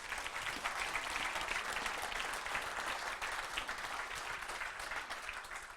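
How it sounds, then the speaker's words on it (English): A small audience at a Wichita startup pitch gathering claps steadily for several seconds, an even, dense patter of hands with no talking over it. "Let's give him a round of applause."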